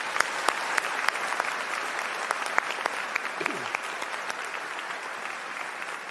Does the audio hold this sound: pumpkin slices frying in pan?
no